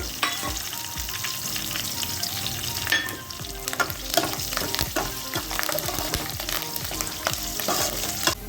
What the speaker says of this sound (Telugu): దంచి పెట్టుకున్న చిన్నుల్లిపాయలు, ఇదంతా 1 నిమిషం ఫ్రై చేసుకుందాం